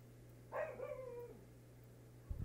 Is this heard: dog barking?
yes